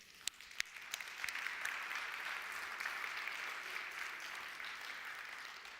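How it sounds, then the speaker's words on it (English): Applause from an audience at an evening business talk, a steady dense wash of clapping that builds after a few sharp early claps and holds at a moderate, slightly distant level throughout. "I think you need to have an applause from all of us"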